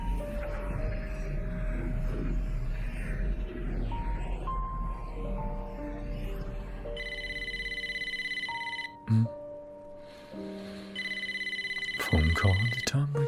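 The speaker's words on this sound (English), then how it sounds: "Phone call at a time like this." An in-game phone rings in Wuthering Waves, with two bursts of bright electronic trilling heard over an ongoing game soundtrack and ambience.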